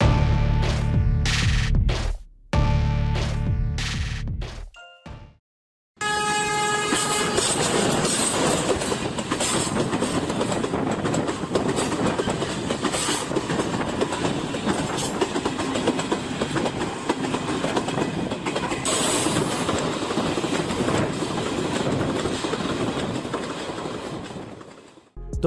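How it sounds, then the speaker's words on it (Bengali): Benapole Express train running at speed, a loud steady roar of wheels and carriages with rhythmic clickety-clack, after a few seconds of brief tonal sounds and a short silence, no voices. "তাহলে বেছে নিতে পারেন বেনাপোল এক্সপ্রেস ট্রেনটি"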